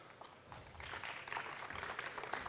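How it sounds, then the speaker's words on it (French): An audience at a water agency keynote applauds staff members, a fairly soft, steady patter of many hands clapping that swells slightly midway and continues without voices. "que vous pouvez applaudir"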